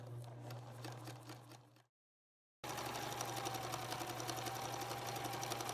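Sewing machine stitching around the edges of a kid-size body pillow, a steady loud mechanical whir with a brief pause partway through before the run resumes.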